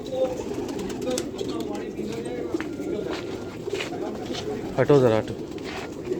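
Pigeons in a crowded loft holding thousands of birds coo in a steady low chorus, with flapping and movement, as someone speaks briefly close by.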